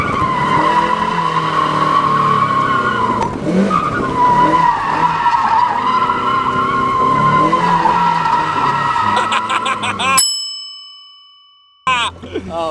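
A Mazda MX-5 spins through a donut, with tires skidding and squealing continuously over a loud engine drone for about ten seconds before the sound drops out abruptly.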